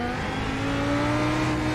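A race car engine held at a steady high drone under traction control in iRacing, heard at the Montreal circuit. It sounds loud and close, with a slight pitch rise and a strained, even tone.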